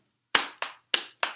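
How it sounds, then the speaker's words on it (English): Four sharp hand claps in an uneven rhythm, close and crisp, each ringing briefly before the next, with silence beforehand. "I'm going to demonstrate the body percussion section 4 times"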